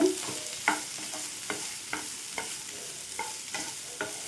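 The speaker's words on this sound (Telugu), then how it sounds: "ఈ విధంగా ముక్కలు వేసేసుకొని ఇవైతే ఒక ఫిఫ్టీ పర్సెంట్ వరకు వేయించుకుందామండి ఆయిల్లో" Cucumber pieces frying in oil for dosakaya pachadi, a soft continuous sizzle with repeated light taps and scrapes of stirring, close and fairly quiet.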